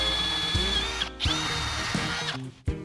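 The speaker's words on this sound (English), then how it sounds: "we'll drill a smaller hole through the wood" A power drill bores a smaller hole through wood on a converted Navy barge, whining at a steady high pitch with a brief stop near the middle and clunks as the bit breaks through near the end.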